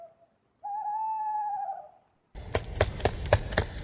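An owl gives a single drawn-out tonal hoot, then a stretch of quiet before a rapid flurry of flapping wingbeats as the bird takes off.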